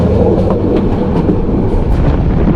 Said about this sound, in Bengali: মোটামুটি ভালো একটা ট্রেন লেট নিয়ে আমাদের মহানগর প্রভাতী জার্নি শুরু করছে।